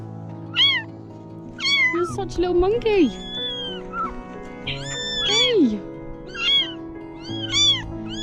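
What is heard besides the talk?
kittens meowing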